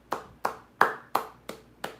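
Six sharp hand claps at a steady, unhurried rhythm, close and fairly loud, each with a short decay and no voices.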